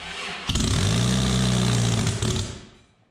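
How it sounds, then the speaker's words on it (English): A bodydropped, boosted Toyota minitruck engine cranks and catches, roaring to a loud rough idle for about two seconds, then sputters and fades out, close to the microphone. "Ooh, a little backfire. Well, we know it runs."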